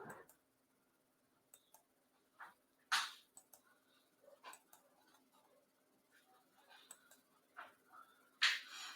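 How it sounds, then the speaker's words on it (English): Dogs bark and yelp intermittently in a village, the sound coming in scattered bursts at a moderate distance over a quiet background. "All the dogs in the village are barking."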